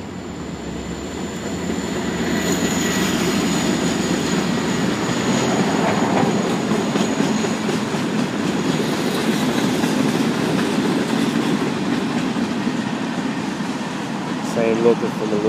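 A Norfolk Southern local freight train led by an SD40-2 running long hood forward rolls past, its locomotive rumble and steady wheel clatter sustained and fairly close throughout.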